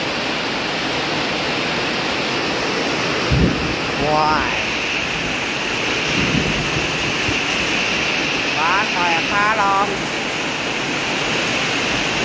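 Heavy rain and wind storm pouring down as a loud, constant broadband hiss, with a voice briefly exclaiming and speaking over the downpour.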